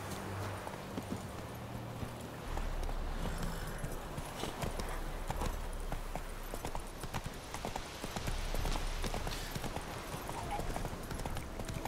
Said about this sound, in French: Au calme, le cheval qui vient de l'eau.